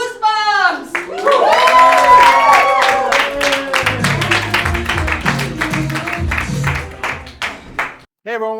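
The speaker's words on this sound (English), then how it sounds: "please start clapping now for Improvised Goosebumps!" A crowd at a live improv comedy show in Brooklyn claps in rhythm, with dense sharp hand claps that follow a whooping cheer and voices, then thin into scattered claps.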